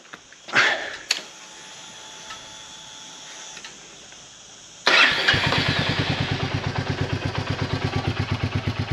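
A few clunks and a whirring crank, then a Royal Enfield Meteor 350 motorcycle engine fires up and settles into a steady, rhythmic idle close by.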